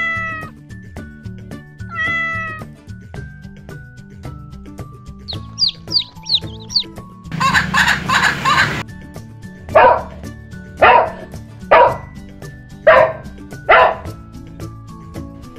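Young animals calling in turn: a kitten's high mewing, chick peeps, then a puppy's series of short yaps, each close and clear against a soft background.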